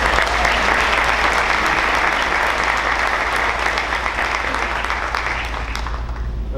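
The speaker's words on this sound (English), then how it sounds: "That's premature clapping." A crowd at a New York City police security meeting breaks into loud, sustained clapping over a low steady hum from the hall, holding strong for several seconds before easing slightly.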